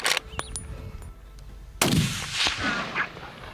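Rifle shots ring out during a baboon hunt on South African farmland: a couple of sharp cracks, then a louder close blast whose rumble and echo trail off over open ground.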